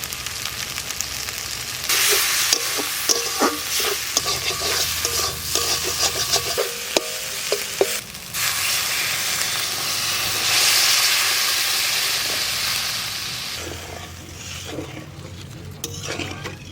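Spices with turmeric and salt sizzle loudly in hot oil for a Bengali bhetki fish curry, with a steady hiss and frying crackle and repeated scraping stirs of a ladle in the pan.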